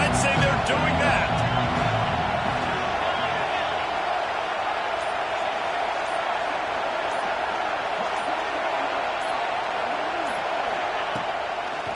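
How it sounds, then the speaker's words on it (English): Stadium crowd at an NCAA college football game roars with steady, loud cheering that fills the whole stretch, with a play-by-play commentator talking over it. "Challenge this crowd to bring the energy, and I'd say they're doing that."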